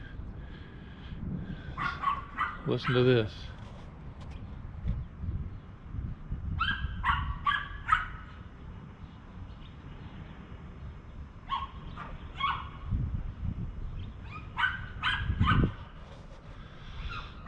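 A neighbour's dog left outside barks in repeated bursts and whimpers between them, heard at a moderate distance across a yard, with a brief voice speaking near the start.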